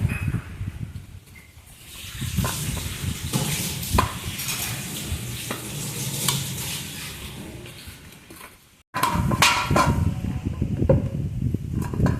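Semolina kochuri dough being kneaded by hand with flour mixed in, giving soft, steady squishing and slapping in a kitchen, with occasional light clinks and one short pause near the end.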